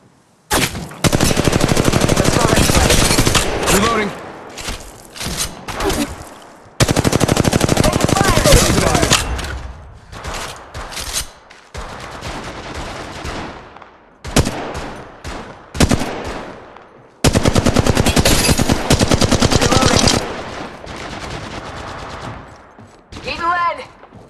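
Sustained automatic gunfire from the Apex Legends Mobile battle royale shooter, loud rapid bursts separated by short pauses and reloads, with lighter scattered shots between heavy volleys.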